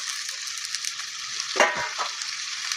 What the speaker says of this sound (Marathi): कढीपत्ता टाकून घेते. तेल खूप गरम झालं